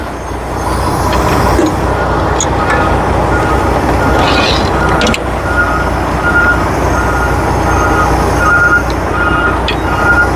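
Garbage trucks reversing sound repeated high, evenly spaced beeps from a short distance away, over heavy steady engine and traffic rumble outdoors.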